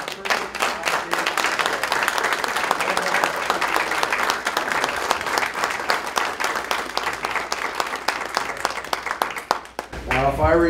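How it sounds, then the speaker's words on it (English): Audience at a Rochester school board meeting applauding the first class: sustained, fairly loud clapping from many hands with sharp individual claps standing out, ending abruptly as a voice begins to speak. "a round of applause, please, to our first class"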